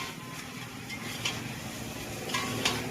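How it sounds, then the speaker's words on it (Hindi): Chicken for chicken lollipop frying in ginger garlic paste at a small roadside restaurant stall, a steady close sizzle with light stirring and occasional utensil clinks throughout. "अदरक लहसुन के पेस्ट से ये फ्राई हो रहा है"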